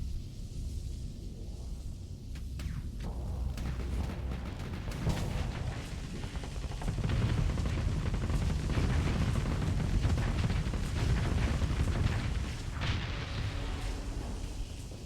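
Ship weapons firing high explosive rounds in the space combat game Starsector: a dense, continuous barrage of booming, rumbling blasts and bursts that swells louder partway through, with no one talking.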